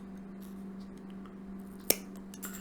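Scissors trimming a wooden stick for windmill blades, a single sharp snip near the close of a quiet stretch, with faint handling noise around it.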